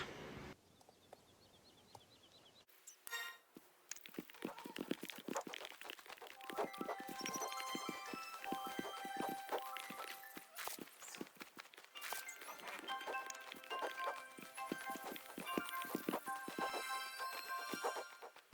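Horse hooves clip-clop at a steady riding pace in Star Stable Online, with bright game music and bird calls layered over the footfalls.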